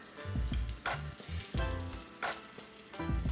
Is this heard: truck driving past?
no